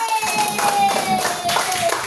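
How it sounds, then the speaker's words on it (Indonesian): A classroom of students applauding a group after its presentation, steady moderate clapping over a faint tonal hum, with voices mixed in. "Tepuk tangan untuk kelompok 2."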